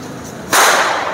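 A single sharp firecracker bang, thrown up to burst in the air during an Ayudha Pooja celebration, bursts suddenly after a quiet moment, loud and close, its crackle fading quickly.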